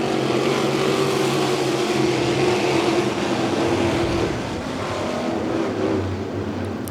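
Race cars run on a dirt track at a Friday night race, their engines forming a loud, continuous roar and drone that swells and fades slightly as the field goes by.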